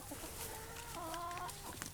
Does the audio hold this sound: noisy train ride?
no